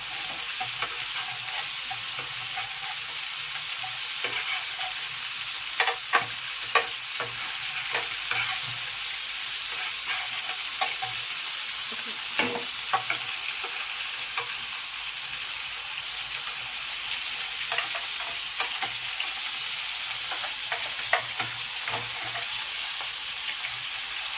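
Food being stir-fried in a pan for a stuffed pigeon dish, a steady close sizzle broken by repeated scraping and clinking of the utensil.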